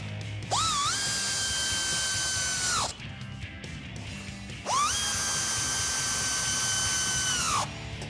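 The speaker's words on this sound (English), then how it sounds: "We're going to use a 10mm socket to tighten up these nuts." A power tool driving a 10mm socket spins up twice, tightening nuts on rock rails being installed on a Jeep Wrangler JL, each whirring run lasting a few seconds with a brief pause between, close and steady.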